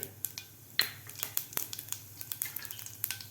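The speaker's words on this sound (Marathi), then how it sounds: "जिरे आणि मोहरी आपली व्यवस्थित फ्राय झालेले आहे" Mustard seeds and cumin fry in hot oil in a pan with sharp, irregular crackles and pops. They sound close and distinct over a quiet sizzle, with no voices.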